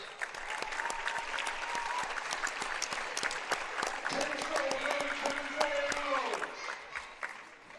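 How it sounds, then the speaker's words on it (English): Sustained applause from a crowd at a high school boys wrestling meet, steady clapping throughout with a voice speaking over it partway through. "big round of applause for our seniors"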